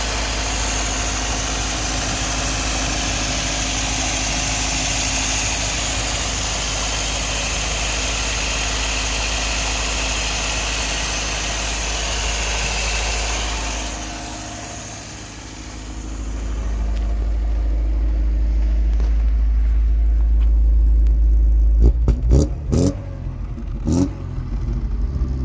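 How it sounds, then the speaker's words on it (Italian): An Alfa Romeo 75 carburetted engine idles steadily on choke, running a little high and lean. The close, even drone holds for about fifteen seconds, then the tone shifts and a few sharp knocks and handling sounds follow near the end. "È un po' alta di giri, ma tirando l'aria gira regolare perché è magra."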